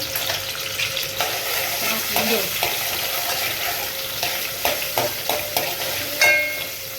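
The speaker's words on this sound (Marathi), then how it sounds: "तर तेल टाकलेलं आहे. टमाटा टाकतो बघा, टॅमॅटो टाकला," Tomato frying in hot oil for a fish gravy, sizzling steadily while a spoon stirs and scrapes the pan in repeated light clinks, close and without talk.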